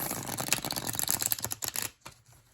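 A deck of new, slippery Yuletide tarot cards riffled and shuffled in quick, crisp bursts of flapping, close up, stopping abruptly near the end.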